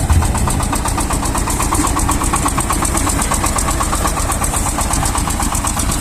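A tractor engine runs steadily at a loud, even idle while hitched to a small Ukrainian-made pumpkin combine being run in, with a constant mechanical drone and rhythmic knocking and no voices.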